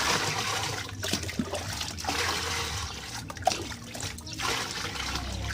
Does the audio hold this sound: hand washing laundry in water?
yes